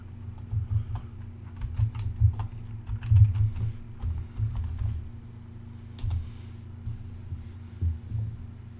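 Keystrokes on a computer keyboard entering a password during an Ubuntu MATE 18.04 setup, a steady run of irregular soft clicks over a low constant hum, with no talking.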